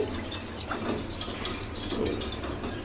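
A semolina mixture for Lebanese layali lubnan is stirred steadily in a pan with a spoon, giving continuous close scraping and soft clinking against the metal over a low background, with no talking.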